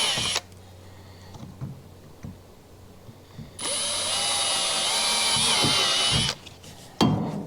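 A power drill runs on a kayak during a rod holder install, a steady high whine lasting about three seconds between scattered knocks and handling clicks, then a short burst at the end.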